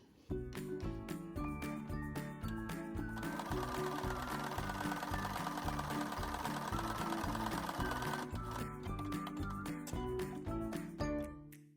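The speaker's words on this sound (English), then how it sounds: "we just want to make a really simple stitch as close to the edge as we can" A sewing machine stitching closed the edge of a fabric face mask, running as a fast, steady mechanical whirr of needle strokes. The sound is close and continuous with a brief pause and restart, and no one talks.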